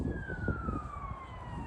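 Police or emergency siren wailing steadily at a distance in a town, its falling tone drawn out across the whole stretch over low traffic rumble.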